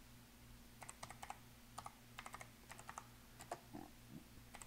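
Keys clatter on a computer keyboard in quick irregular bursts of taps, near and quiet, over a faint steady hum in the room.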